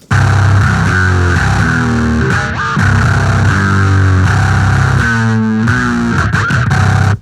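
Thick, heavily distorted bass guitar riffs from one bass track layered into low-end, distorted mid-range and pitch-shifted side tracks, loud and gritty, playing a rhythmic line with short gaps between phrases.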